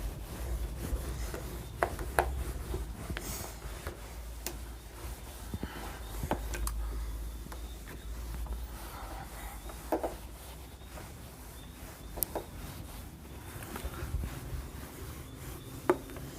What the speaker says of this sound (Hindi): रब कर रहा हूँ